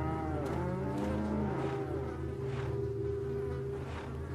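Cows in the Resident Evil 4 video game, a steady low lowing drone with harmonic bands, buzzing insect-like hum layered over it, continuous and fairly close.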